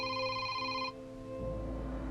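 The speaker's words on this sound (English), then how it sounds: "Late that night, her phone rang." A phone rings late at night: a short, bright electronic ring for under a second, then it cuts out. It sounds fairly faint over a low, steady background drone.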